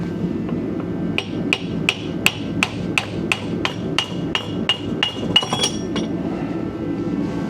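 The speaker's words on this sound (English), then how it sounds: "Use a brass hammer." A brass hammer strikes a car axle bearing on a 1969 Chevy Nova, with about fifteen sharp metallic blows in a steady, fairly quick rhythm over a low workshop hum, no talking.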